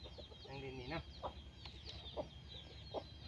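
Chickens cluck in short, scattered bursts at low volume against a noisy outdoor background, with a drawn-out squawk near the start and several quick clucks spaced through the rest.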